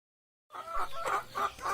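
A chicken clucking close by in a short run of three or four sharp, rhythmic clucks after a moment of silence, with no voices.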